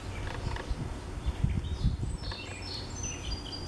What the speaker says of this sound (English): And you can hear the birds singing.